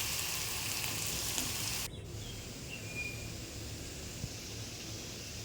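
Asafoetida frying in hot oil in a pan while mango rice is cooked, a steady close sizzle that drops to a softer, continuous crackle partway through, with no voices.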